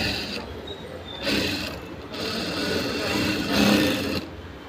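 A sewing machine runs in bursts of mechanical whirring and ratcheting while stitching along the edge of a garment lining in a tailoring lesson. It sounds close and moderately loud, starting and stopping several times, with no speech over it.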